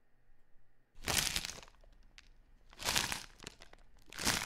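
A candidate zombie chomping sound effect plays back as three loud, crunchy, crackling bursts spaced about two seconds apart, with faint clicks between them.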